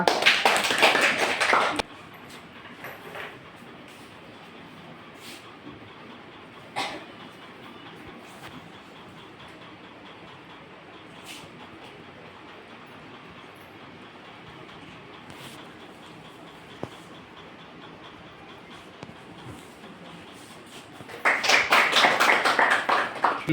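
A crowd at a Mother's Day celebration in Kej claps hands in a dense burst at the start, falls into a quiet stretch with a few faint taps, then breaks into loud applause again at the end.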